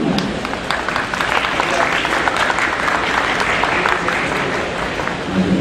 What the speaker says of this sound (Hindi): तालियों में कमी नहीं होना चाहिए।